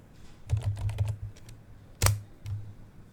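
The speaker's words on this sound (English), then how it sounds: "Now type your msconfig." Several quick keystrokes tap on a computer keyboard, a short burst of clicks followed by a couple of separate, firmer key presses, close and fairly quiet with no voices.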